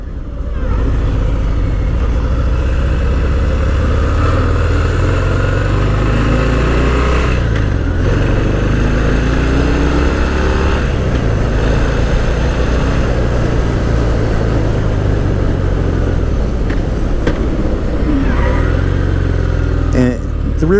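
A Harley-Davidson Fat Bob 114 motorcycle rumbles loudly and continuously while being ridden, its deep engine drone rising and falling with acceleration and downshifts, mixed with steady wind noise for the whole stretch.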